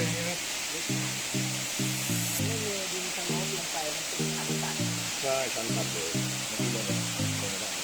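A waterfall on a hiking trail in Khao Yai gives a constant loud rushing hiss, with someone talking in short phrases over it.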